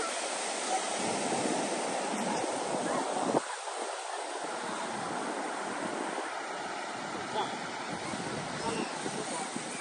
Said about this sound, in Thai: วันนี้ทะเลแรงมากฮะไม่มีใครกล้าลง